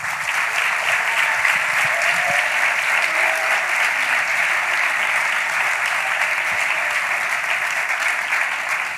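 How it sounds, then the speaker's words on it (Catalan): A large audience applauds at a 25th-anniversary celebration event, dense sustained clapping that stays loud and even from start to finish. "Un fort aplaudiment."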